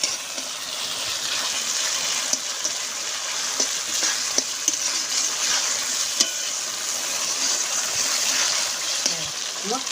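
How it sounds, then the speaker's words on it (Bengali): Mutton curry spices frying in oil with spice-rinse water added, a steady close sizzle with scattered sharp spatters and occasional scraping stirs, loud and continuous throughout with no talking. "দিয়ে দেবো মশলা ধোয়া জল। সব কিছু সুন্দর করে কষিয়ে নেব।"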